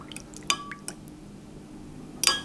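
Spoon clinking and stirring jelly cubes in a cup of liquid in a glass bowl, a few light taps and drips heard alone at moderate distance.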